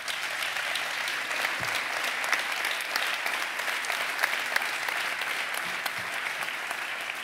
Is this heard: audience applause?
yes